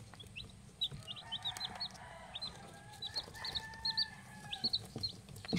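Newly hatched white chicks peeping, a quiet scatter of high, short cheeps repeating irregularly over a low background hum.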